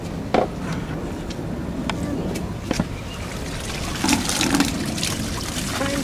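Dyed silk fabric is rinsed in water, with soft sloshing and trickling broken by scattered sharp knocks and splashes at close range.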